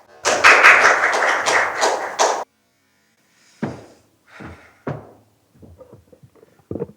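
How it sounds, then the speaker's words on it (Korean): An audience at a science culture forum in Chungbuk gives a brisk, dense burst of clapping that stops abruptly, followed by sparse, faint thumps and brief sounds. "큰 박수 부탁드리겠습니다"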